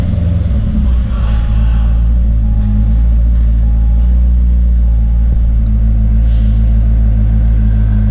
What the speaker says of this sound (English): Let's go ahead and turn the car on